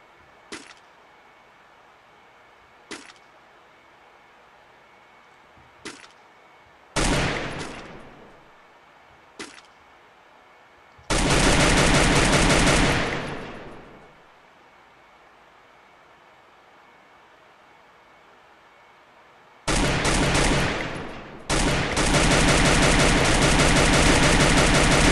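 Gunfire from the video game Free Fire: scattered single shots and short bursts, then two long, loud stretches of sustained automatic fire, with quiet gaps between and no talking.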